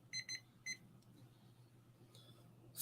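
A coffee brewing timer, set for four minutes, gives a few quick electronic beeps in bursts, then a brief burst of noise, in a quiet room while a coffee is brewed.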